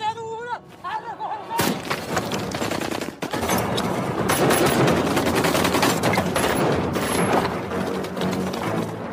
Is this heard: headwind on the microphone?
no